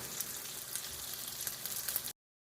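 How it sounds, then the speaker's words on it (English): Beef sears in a hot pan with a close, even sizzle and fine crackle that runs for about two seconds, then cuts off abruptly into silence. "Okay, I finished sauteing the beef."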